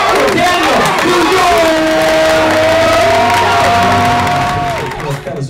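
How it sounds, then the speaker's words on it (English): A comedy club crowd claps and whoops loudly for a stand-up comedian, a dense sustained roar of cheering with a host's voice calling over it before the noise starts to thin. "Start clapping right now. Start clapping."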